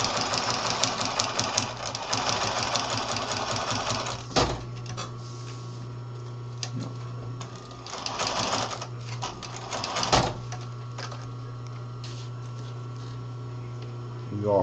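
Sewing machine stitching through Velcro on a messenger bag, a steady mechanical hum and rapid needle chatter that stalls and restarts as the fabric is pushed along, close and fairly loud.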